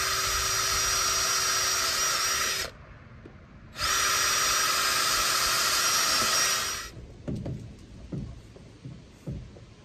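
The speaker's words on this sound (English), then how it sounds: "So what I'm going to do is drill holes in here for my vent" A high-pitched power drill whines loudly in two long bursts, drilling vent holes into a homemade biogas digester, with a brief pause between, followed by scattered clunks and handling noises.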